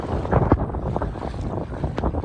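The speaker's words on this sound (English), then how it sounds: "Boy, you can hear that wind whipping." Gusty wind whips across Lake Lavon in Texas during a fishing trip by boat near shore, buffeting the microphone in rough bursts over faint water splashes, with no talk.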